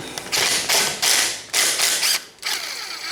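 A hand ratchet removes a bolt from a Yamaha Banshee engine case, a loud, close, rapid clicking in five or six bursts with short pauses between them.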